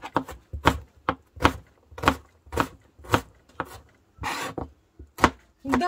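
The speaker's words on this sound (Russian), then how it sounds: "Лук нарезаю просто кубиком" A knife dices onion into cubes on a cutting board, a series of crisp, fairly loud chops at a steady uneven rhythm, with one longer scraping stroke near the end, and no voices.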